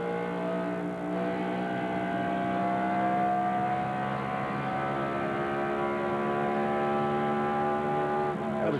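A NASCAR stock car, Jeff Burton's, roars past at speed during the 2000 Pennzoil Miami 400 at Homestead-Miami Speedway, with a sustained high engine whine and a falling pitch, alone with no talk.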